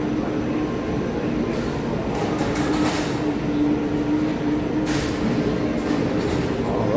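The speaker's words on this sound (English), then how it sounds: "One of the best monorail rides literally ever." A Walt Disney World monorail glides along with a loud, continuous rolling rumble and steady mechanical hum, punctuated by a few brief hissing swells.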